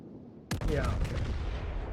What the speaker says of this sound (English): I thought those shells would hit, but doesn't look like it.